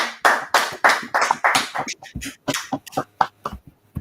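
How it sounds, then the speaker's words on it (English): Steady, close hand clapping in a brisk rhythm, loud and sharp, continuing for several seconds with a slight slowdown near the end. "Clap it up all the time."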